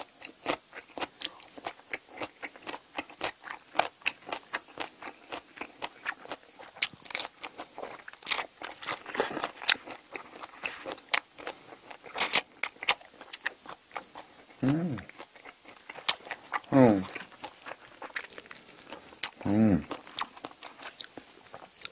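Close, crisp chewing and crunching of braised seafood stew with shrimp in a mukbang, steady wet bites and smacks throughout with a few louder crunches and brief speech-like sounds.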